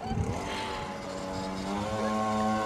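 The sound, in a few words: small cheap motorcycle running with a rattling metal noise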